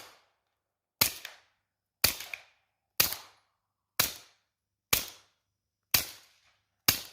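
Subsonic .45 ACP pistol shots fired downrange outdoors, seven loud sharp reports spaced about one second apart, each with a short decaying echo tail, no talking.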